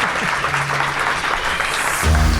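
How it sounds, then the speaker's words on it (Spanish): A festival audience applauds a science and technology show's team, dense clapping filling the space at a steady level before music swells in near the end. "Debéis aplaudir a mis compañeros, que se lo han ganado"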